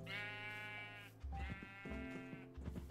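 Sheep in a small Minecraft barn bleat twice, quiet, drawn-out and wavering, with soft low shuffling noises underneath.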